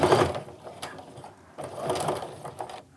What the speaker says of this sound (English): So do some reinforcing. Sew a little more.